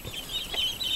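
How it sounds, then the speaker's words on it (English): Chickens, including a bearded chicken, cluck in short, close, murmuring bursts over about a second, with no voices. "Chickens apparently think I'm supposed to be pecked at."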